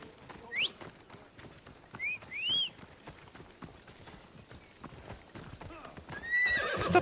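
A horse in Assassin's Creed Odyssey gallops with steady clip-clop hoofbeats and lets out several sharp whinnies, one near the start, two in the middle and a louder rush at the end, under game ambience and occasional speech.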